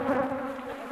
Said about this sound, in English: These are her bees.